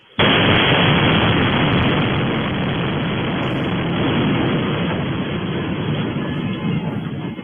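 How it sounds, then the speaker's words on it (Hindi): A missile strike hits a building in Beersheba, producing a sudden loud blast followed by a sustained roaring rumble that fills the whole stretch without fading. "ईरान की मिसाइल बेशर्बा में सीधे बिल्डिंग पर आकर लगी"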